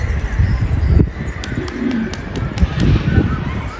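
Pigeons coo loudly and repeatedly close by while one flies overhead, set against a steady outdoor background hum.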